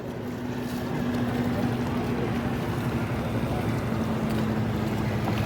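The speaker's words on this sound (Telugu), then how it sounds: "ప్రజెంట్ మనం బోట్లో ట్రావెలింగ్ చేస్తున్నాము" A boat motors along the river toward Triveni Sangam at Prayagraj during the Maha Kumbh Mela, a steady droning engine hum with water and wind rush running throughout, no speech.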